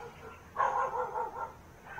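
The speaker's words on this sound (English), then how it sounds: "Some dogs, as you can hear," Dogs bark in a rural area of the Philippines, a short run of mid-pitched barks at middle distance with brief pauses between them, under a soft outdoor background.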